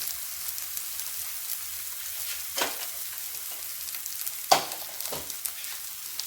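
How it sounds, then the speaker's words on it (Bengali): Brinjal seasoned with salt and turmeric fries in hot oil in a kadai, giving a constant soft crackling sizzle with a few louder scraping stirs and one sharp clink near the end; no voices. "বেগুনটা ভেজে নেব।"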